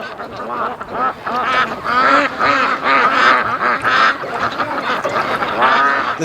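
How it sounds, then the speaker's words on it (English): Free-range ducks on a lake keep up a loud, close chorus of overlapping quacks and nasal honking calls, rising and falling in bursts without pause. "Hello, ducks! It's me!"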